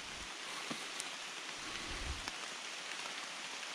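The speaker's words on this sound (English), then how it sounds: "I showed you the rain." Rain falls outdoors as a soft, steady hiss, faint and continuous, with a few scattered louder drops or patters and no voices.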